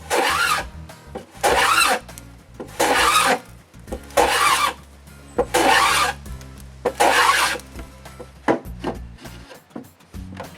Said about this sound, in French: je peux varloper le grand cadre extérieur pour lui donner l'angle de 10 degrés au bas